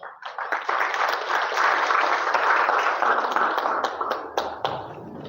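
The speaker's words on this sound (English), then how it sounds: "please give him a round of applause." Workshop audience breaks into sustained applause, a dense wash of many hands clapping at steady loudness, with a few sharper individual claps standing out as it tapers near the end.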